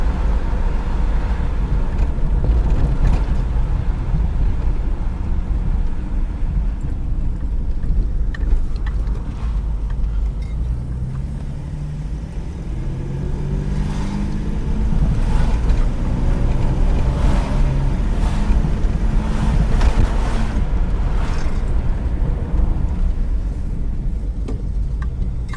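A re-jetted engine runs loud and continuous, its low rumble building as it accelerates, with rising tonal sweeps of changing revs partway through and no voices over it.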